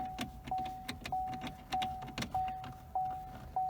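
A 2017 Chevy Cruze door-open warning chime, a quiet repeating electronic bing sounding at a steady rhythm about every half second, mixed with faint clicks and rustling inside the car.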